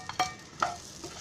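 Onion being dry-roasted with cumin in a pan with no oil, stirred with a couple of short scraping strokes that rise and fade, fairly quiet and close, with no talking.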